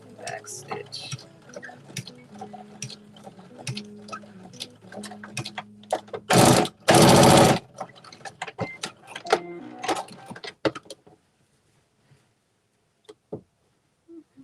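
A sewing machine back stitching a clutch bag, with short runs of rapid mechanical stitching and clicks, two loud bursts of noise in the middle, then a quiet tail with only a few faint taps.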